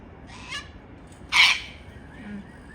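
A cockatoo gives a single loud, harsh squawk near the middle, preceded by a fainter short call, with quiet background and a low voice murmuring briefly near the end.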